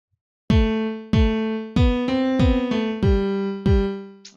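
Seven loud, punchy kick drum sample hits in FL Studio in a loose, steady pattern, each with a booming pitched body that decays quickly, heard alone.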